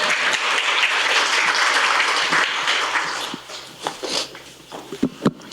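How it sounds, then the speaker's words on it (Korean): Audience applause welcoming a young lawmaker at an indoor book talk event, a dense steady clapping from a crowd that gradually thins into scattered individual claps near the end. "우리 손소리 의원님 박수로 모시겠습니다"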